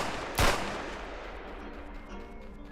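A single sharp gunshot from a Unity3D penguin video game cracks out near the start, then fades into a steady background of game ambience with no talking.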